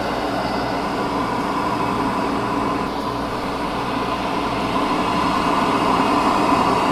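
Suction roar from an old single dust collector heard at the main duct trunk of a whole-shop collection setup, a steady, loud broadband rushing whoosh that holds constant throughout with no talking.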